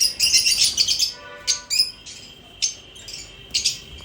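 Birds chirp close by in bright, high, squeaky bursts, a flurry at first and then spaced calls roughly every half second to second, loud and clear with no talking.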